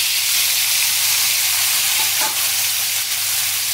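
Tomato fries in hot oil in a wok, a dense, continuous sizzle filling the whole stretch, close and fairly loud, with a brief stirring scrape near the middle.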